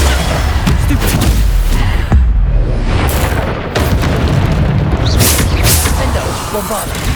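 Bombarda explosion spells going off in Hogwarts Legacy combat, loud booming blasts and bursts in quick succession amid other spell effects and a steady game soundscape.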